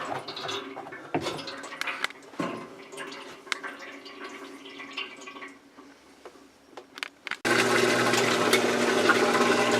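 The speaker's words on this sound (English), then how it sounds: "The tub is draining again." A washing machine tub drains water, with scattered drips, knocks and trickles before a steady loud rush of draining water takes over near the end.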